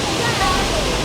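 A forest waterfall in Karura Forest roars as a steady, loud broadband rush of falling water, unbroken throughout.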